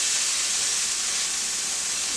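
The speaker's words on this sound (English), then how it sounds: "You can hear it sizzling," A steady, bright hiss of corn sizzling in a hot pan, constant and close, with no voices.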